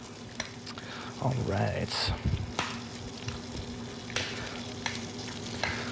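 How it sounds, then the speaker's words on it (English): Crab claw meat mixture is stirred in a sizzling pan, scraping and clattering in bursts over constant frying hiss, as a voice speaks briefly. "So we'll mix up. We've got a couple of big chunks of claw meat in there."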